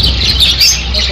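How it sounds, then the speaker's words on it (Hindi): Australian parrots, one green and two yellow, squawk and chirp in shrill, overlapping calls that continue steadily throughout, close by, with a person talking under them. "ये वाला तोता बोल रहा है।"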